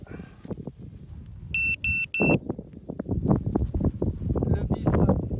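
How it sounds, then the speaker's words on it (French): A drone gives three short, bright beeps in quick succession to signal it is ready for takeoff, loud and close, followed by wind buffeting and rushing noise. "Le bip est synonyme, on va dire, de décollage."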